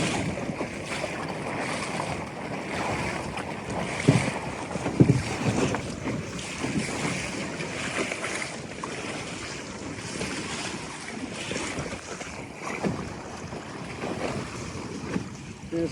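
A Sunfish sailboat tacks and surfs across waves, with steady broadband water wash and wind buffeting the microphone throughout and a few louder splashes and knocks near the middle.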